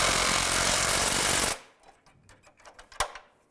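Power tool hammers bolts tight on a Chevy Trailblazer timing cover in one loud, continuous rattling burst of about a second and a half, then stops, leaving faint clinks and a single sharp knock.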